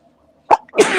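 A single close sneeze: a short, sharp intake followed by a loud, breathy burst, alone in a quiet room.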